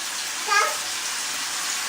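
Bath water splashes and sloshes in a tub during a small child's bath, a steady watery wash with a short burst of splashing in the middle, heard up close.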